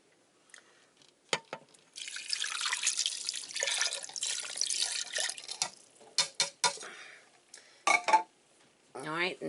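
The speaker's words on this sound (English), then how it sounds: "I'm going to put 2 cups of water in here" Water pours into the inner pot of a Power Pressure Cooker XL in a continuous, fairly close stream, followed by scattered drips, clinks and handling knocks.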